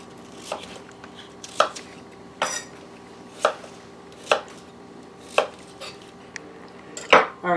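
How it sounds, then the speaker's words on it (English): Vidalia onions are cut into chunks with a knife on a board, about eight distinct chops in an irregular rhythm, each one crisp and fairly close, with quiet gaps between them. "I just want to cut them into chunks"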